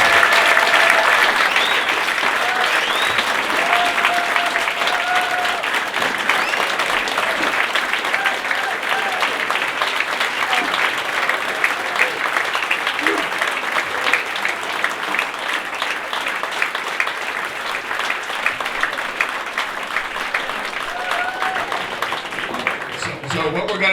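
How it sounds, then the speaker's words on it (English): Sustained applause from a seated crowd at a Seacoast Republican Coalition debate for GOP U.S. Senate candidates, loud and even at first, slowly thinning out with some scattered voices. "So I would like to have a round of applause for the candidates."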